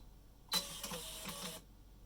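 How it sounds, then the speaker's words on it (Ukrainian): An RLS1000 label printer calibrates its paper with a short whirring feed lasting about a second, a few faint clicks within, beginning and ending abruptly against a quiet room. "Принтер відкалібрувався."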